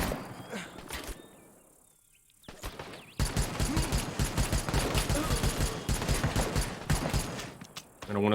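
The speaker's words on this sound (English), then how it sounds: "just shoot this thing manually. Well, that's beautiful. That's a proper M14 carbine" M14 carbine fire in a Vietnam War real-time strategy battle for Saigon: dense, rapid volleys of rifle shots crackle loudly for several seconds after a quieter stretch of ambient battlefield noise.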